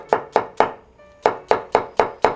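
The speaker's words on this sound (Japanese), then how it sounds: "中華包丁はやっぱり楽ですね。 重さを利用して切るのですごく楽に切ることができます。" A Chinese cleaver chops a white leek on a cutting board: three sharp, evenly spaced thuds, a brief pause, then five more in a steady rhythm. The chops are close and loud.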